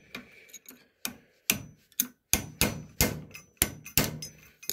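A hammer taps a snow blower jack shaft bearing collar clockwise, about a dozen sharp metallic knocks in a quickening, fairly even rhythm, close up with no talk.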